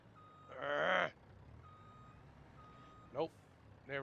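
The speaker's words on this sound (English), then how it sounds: "I gotta back this semi down in that hole" A semi truck in a farming video game backs up with faint, evenly spaced reversing beeps under a steady engine hum, while a few short bleating, vocal-like sounds burst out in between.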